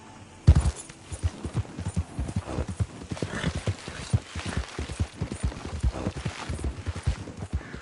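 Horse hooves clip-clop in a steady walking rhythm, fairly close and clear, with a brief snort or whinny near the start, in the video game Red Dead Redemption 2.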